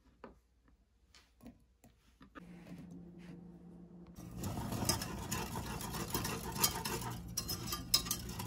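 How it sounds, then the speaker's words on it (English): A fruit mixture with chopped cantaloupe stirred in a pot as it comes to a boil: quiet scattered clinks and scrapes at first, then a steady, louder bubbling and spoon-scraping bed with frequent utensil taps against the pot. "Just gonna stir it frequently too."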